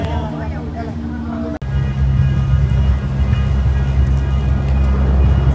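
A steady, loud mechanical rumble with low droning hum and rattling from a cable car cabin in Taif running 1,500 meters high along a 4.5-kilometer line, continuing without pause.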